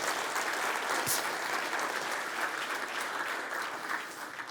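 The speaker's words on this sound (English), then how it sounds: "please give my parents and USA a big round of applause" A conference audience at a summit for dentists gives a sustained round of applause, a dense, steady wash of clapping throughout with no break.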